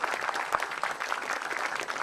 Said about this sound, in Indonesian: Tepuk tangan dulu untuk Anda semuanya.